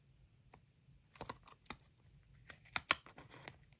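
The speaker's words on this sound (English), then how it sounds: "just need the last snips to cut those excess pieces off." Hand snips trim excess pieces from die-cut card during card making, giving a few quiet, sharp clicking cuts spaced irregularly against a near-silent background.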